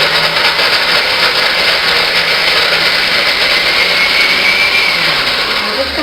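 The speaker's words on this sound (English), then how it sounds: "going to blend a cup of macadamias." Blender running at high speed, blending soaked macadamia nuts for a raw vegan cheesecake: a loud, steady whirring motor roar that holds throughout, close and unbroken.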